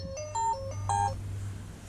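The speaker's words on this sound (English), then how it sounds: "And always there's alarms and phone calls when you don't want them." A phone ringtone plays a short melodic pattern of bright electronic tones, two rising phrases in quick succession over a steady low hum at a workbench during a TomTom GPS repair.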